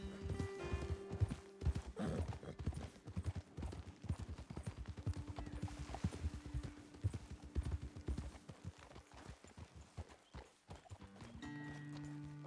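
Horses' hooves clip-clop in Red Dead Redemption 2, a dense run of close hoofbeats with an occasional neigh and faint talk underneath.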